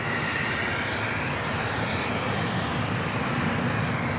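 A Qantas jet taxis toward the gates at Los Angeles International Airport, a steady, fairly distant engine roar and whine that holds level throughout with no voices.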